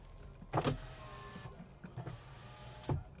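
The electric power windows of a BMW, long unused, whir down in several short motorized bursts, each a few seconds apart, with small thumps as they stop, close and clear.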